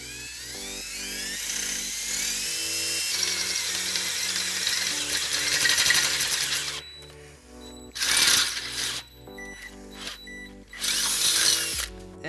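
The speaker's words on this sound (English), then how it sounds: "we're going to use a 3/8 drill bit to drill that out." A power drill fitted with a 3/8 bit bores holes in a baseplate on a 2014 Fiat 500 Pop/Lounge, a loud high whine running steadily for several seconds, then stopping, followed by two short renewed bursts of drilling close to the microphone.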